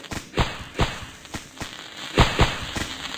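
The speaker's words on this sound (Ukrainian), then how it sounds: "нам добавили такі салюти" Fireworks go off in the Roblox game Brookhaven, a quick series of about seven sharp crackling bursts at a rapid, uneven pace.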